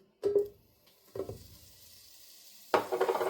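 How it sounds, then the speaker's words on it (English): Butter goes into a large pot over medium-high heat for soul-food collard greens. It gives three separate bursts of sizzling and stirring, close and fairly quiet, each fading before the next and the last the strongest. "you're going to add the butter"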